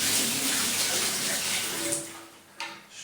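Water drains and splashes out of a loose toilet cistern part turned upside down, giving a continuous gushing trickle with a few sharper spurts, heard close up.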